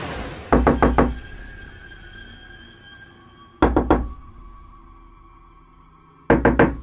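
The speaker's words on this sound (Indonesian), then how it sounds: "aku mendengar suara ketukan pintu" Three bursts of knocking on a door, each a quick run of three or four hard, resonant raps with long quiet gaps between. A faint steady tonal hum sits underneath.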